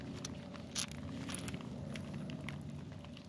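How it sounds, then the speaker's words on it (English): Rain falls outdoors along a creek channel in Missouri, a steady dense hiss dotted with scattered close drop ticks and no voices. "Yes, it's raining pretty good."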